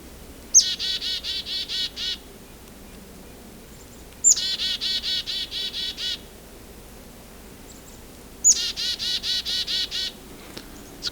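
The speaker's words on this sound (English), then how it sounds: "It's a red-breast nuthatch here too." Red-breasted nuthatch calling in a winter count setting: three bursts of rapid, nasal repeated notes spaced a few seconds apart, moderately close over a faint low background hum.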